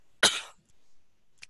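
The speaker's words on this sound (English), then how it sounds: "Having a coughing fit here." A man having a coughing fit during a programming meetup talk lets out one harsh, loud cough, then a short pause, then a second fainter cough.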